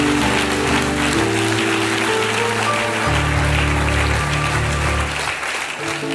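A church congregation applauding, loud sustained clapping from a crowd blended with sustained musical tones, continuous throughout and fading slightly at the end.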